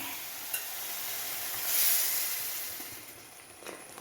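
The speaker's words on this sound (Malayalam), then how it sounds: "ഇനി നമുക്ക് മോര് ഒഴിക്കാം." Buttermilk poured into a hot frying pan hits with a soft hiss that swells briefly, then settles into a faint, steady sizzle.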